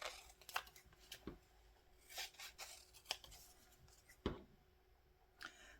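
Scissors snipping paper pieces for a 1:12 scale miniature country-style magazine rack, quiet irregular clicks and crisp cuts with faint rustling between them.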